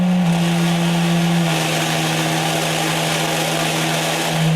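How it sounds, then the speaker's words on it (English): A steady 160 Hz tone from a speaker sets a drum resonating in a physics demonstration of waves. A loud, constant hum holds throughout with a slight pitch shift early on, and no talking. "it is 160 times a second that sound was coming out."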